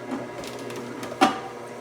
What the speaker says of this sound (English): Now we're just gonna turn it on back here. You can see right away it starts the juicing action with its powerful motor.